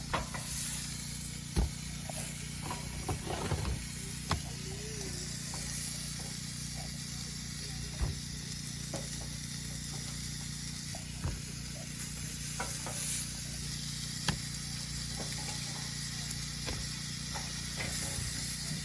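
Grilled vegetables, zucchini and onion, being lifted off a Eureka SPRK camp grill outdoors, under a steady close sizzle with scattered light clicks and scrapes of tongs.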